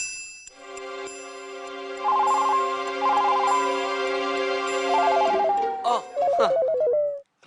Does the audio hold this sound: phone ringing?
yes